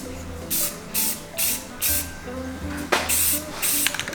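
Rhythmic bursts of aerosol spray paint hiss as a second coat goes onto a 1960s go-kart body, about seven short passes in steady succession, close and clear with no talk.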